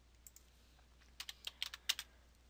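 Typing on a computer keyboard while naming a cylinder in a vertical vessel model: a few soft isolated taps, then a quick close burst of crisp keystrokes, quiet and alone.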